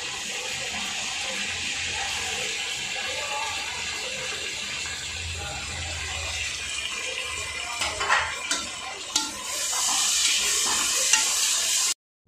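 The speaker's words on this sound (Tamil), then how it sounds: "புதினா கொத்தமல்லி நல்லா எண்ணெயில் வதங்கும் போது நல்லா ஸ்மெல் ஜாஸ்தியாக இருக்கும்." Mint and coriander leaves wilting in hot oil for country chicken biryani, a continuous hiss of frying with scattered stirring scrapes that grow louder and more clattery toward the end, no speech.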